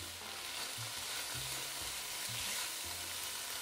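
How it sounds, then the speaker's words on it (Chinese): Sweet bean sauce stir-frying in a little oil in a wok, a steady broadband sizzle with repeated low scraping strokes of the spatula, close and continuous with no talk. "锅里加少许的油，开始炒面酱"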